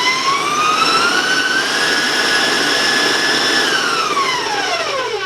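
A loud electric mixer blending chocolate sugar cookie batter whirs steadily close by, its high whine rising slightly in pitch and then dropping toward the end, with no voices.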